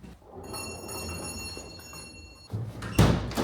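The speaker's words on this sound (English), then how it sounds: "The door's open." A door at a Masonic hall in a Lancashire valley opens, a short wooden clunk and rattle after a quiet stretch, fairly close and alone.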